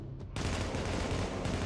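Rapid, dense gunfire from the video game The Division in a subway morgue firefight, a loud continuous burst of shots that starts abruptly after a brief quieter moment.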